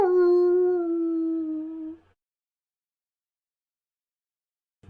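A dog gives one sustained, steady howl lasting about two seconds, loud and close, then silence until a brief sound at the very end.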